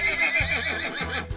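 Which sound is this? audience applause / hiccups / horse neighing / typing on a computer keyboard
horse neighing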